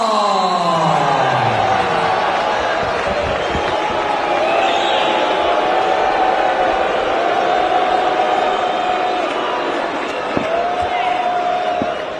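A large arena crowd at a UFC event reacts to a split decision with a sustained, broad roar and murmur that lasts throughout, under a loud amplified announcer's voice.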